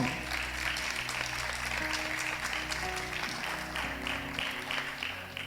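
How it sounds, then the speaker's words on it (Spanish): A church congregation applauds during a sermon, sustained clapping with a low sustained musical tone underneath, steady and moderately loud throughout. "Dale un fuerte aplauso a la palabra del Señor."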